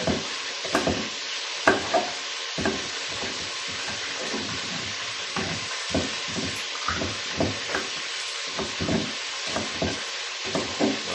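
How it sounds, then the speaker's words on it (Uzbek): Chicken sizzling and frying in a pan, a steady bright hiss broken by repeated scraping and stirring knocks at an uneven rhythm, close and clear with no voices. "Endi navbatda mana hozir tovuqimiz qovurilib chiqibdi"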